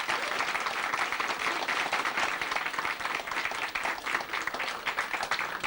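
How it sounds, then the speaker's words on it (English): Audience applause fills a bar in Tramore, a dense, loud and steady wash of many hands clapping that carries on without a break from start to finish. "Give them a big round of applause."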